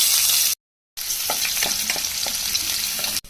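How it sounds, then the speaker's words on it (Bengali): Chopped onion drops into hot oil in a pot on the stove for chicken curry and sizzles loudly and continuously, with a brief gap of silence near the start and light stirring clicks throughout. "তেল গরম হয়ে গেছে, এখন দিয়ে দিব পরিমাণ মতো পেঁয়াজ কুচি"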